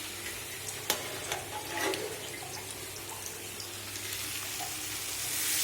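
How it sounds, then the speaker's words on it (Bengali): Water being poured into a pan of frying vegetarian soybean curry made without onion or garlic, a soft splash followed by a faint sizzle and bubbling, fairly quiet and close, with no talking. "এবার সোয়াবিনে দেবো হচ্ছে জল।"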